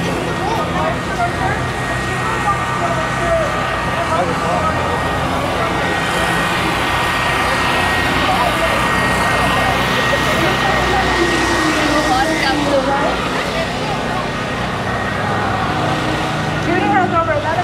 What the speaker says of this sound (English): Now we're getting some of the flybys.